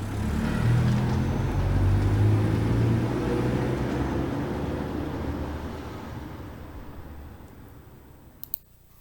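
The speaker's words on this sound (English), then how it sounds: "This is the sound of a car." A car passes close by, a steady road rumble and engine noise that slowly fades away, followed by a few faint clicks at the end.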